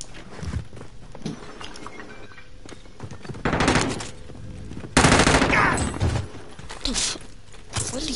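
Bursts of video game gunfire, including rapid automatic fusillades and single shots, crackle at varying loudness with footsteps and mechanical clicks in between, the loudest volley striking near the middle.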